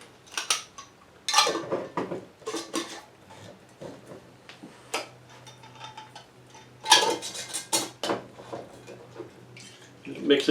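Lids go onto containers of sweet iced tea moonshine, followed by mixing, with scattered clinks, rattles and knocks of glass and metal under occasional speech.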